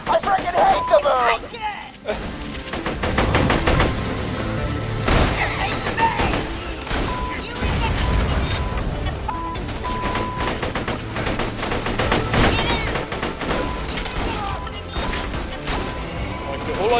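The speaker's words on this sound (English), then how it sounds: "All I can hear is your gun." Gunfire from Borderlands: The Pre-Sequel, with rapid automatic bursts and repeated loud shots crackling nonstop alongside in-game crashes and mechanical clatter, while voices talk over the fighting.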